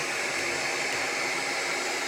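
A blower pushes air steadily over resin pigment, producing a constant, close, loud whooshing rush with no breaks.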